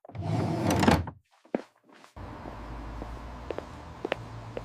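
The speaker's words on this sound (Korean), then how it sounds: "제삿날 새벽부터 전을 부치느라 부르튼 손가락으로 서랍을 뒤지던 은숙의 손이 텅 빈 공간에서 멈췄습니다" A drawer is rummaged through in a quiet room: a loud sliding, scraping burst of rattling contents, a couple of knocks, then softer shuffling with a few small clicks and taps.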